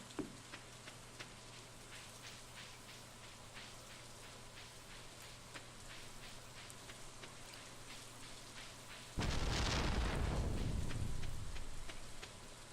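Rain falls steadily in Stardew Valley, a soft constant patter with faint ticking, swelling abruptly into a loud, dense downpour near the end before easing slightly.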